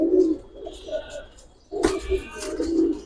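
Giribaz and coloured pigeons coo softly and repeatedly nearby, with low, rounded calls, and a brief burst of louder bird noise midway.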